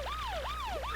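A wailing siren from Paper Mario: The Thousand Year Door sweeps up and down in steady repeating cycles, loud and continuous with no other sounds.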